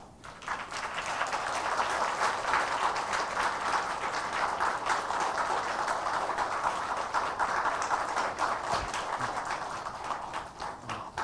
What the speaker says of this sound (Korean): 여러분 따뜻한 마음으로 박수로 축하해 주시기 바랍니다.